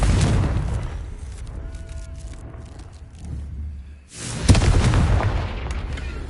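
Confringo spell explosion in Hogwarts Legacy, two booming blasts with a quiet gap between them, each followed by a decaying rumble.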